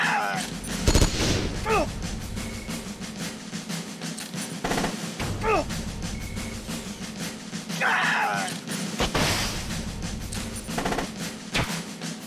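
Pistol fire against a tank in the video game Metal Gear Solid: Peace Walker, a steady barrage of sharp game gunshots with heavy booms and explosions mixed in, loud and continuous throughout.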